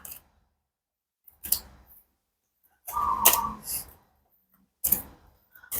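Tarot cards drawn and handled one by one, producing a few soft, brief papery snaps and slides separated by near silence.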